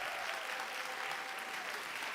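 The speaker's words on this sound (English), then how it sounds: "Can we get an applause for that?" Audience applause after a wrestling briefing segment honouring an Intercontinental Champion, a steady, even wash of clapping that holds at a fairly quiet level throughout the short stretch, with no voices over it.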